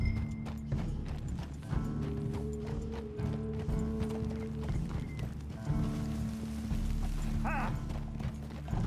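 Horse hooves clip-clop in a steady walking rhythm along a narrow mountain pass in Red Dead Redemption 2, with creaking tack, a brief whinny and soft game music underneath.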